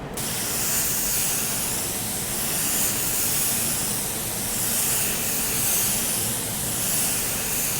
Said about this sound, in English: We'll get our first coat on, we'll take a look, and then we'll spray on our second.